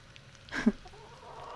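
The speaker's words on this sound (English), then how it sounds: "So there's just chickens walking around in this massive spaceship." A chicken loose aboard a massive spaceship gives a single short cluck near the middle of the clip, moderately close, over a low steady hum.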